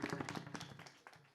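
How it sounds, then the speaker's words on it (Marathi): A kirtan audience gives a short burst of clapping in honour of a Varkari maharaj's institution, with quick, fairly faint hand claps that thin out within a second or so. "एकदा त्यांच्यासाठी जोरदार टाळ्या वाजवा."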